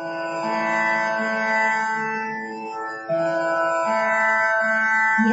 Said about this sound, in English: Yes, it is the sound of a tanpura